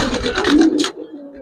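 A Giribaz racer pigeon, a silver-colored bird, gives a short, close coo of a few soft throaty notes before falling quiet.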